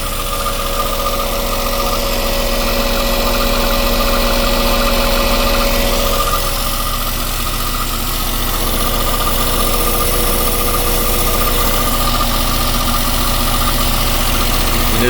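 A Westerbeke marine diesel in a Boston Whaler runs at a steady idle with an overheating problem, a loud, even rumbling drone that holds close and constant throughout.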